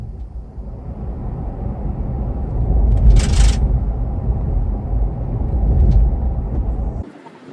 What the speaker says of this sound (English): this is what it looks like as you're driving down the road